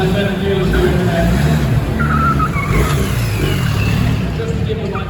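BMW R1300GS motorcycles ridden hard off-road at a Motorcycle Live trophy demo, a loud continuous engine roar with revving swells, with a voice talking over it.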